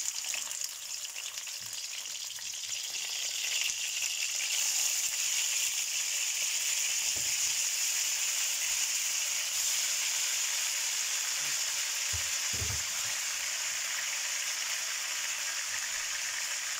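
Garlic sizzles and fries in olive oil in a pan, a steady crackling hiss that grows fuller after a few seconds, with a few faint clinks and low bumps.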